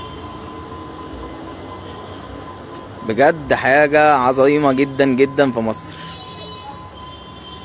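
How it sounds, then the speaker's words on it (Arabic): A fast train approaching Alexandria station in Egypt, heard as a steady rumble with a faint sustained whine running throughout, while someone talks over the middle stretch. "في انتظار القطار وهو قادم في طريقه لمحطة اسكندرية"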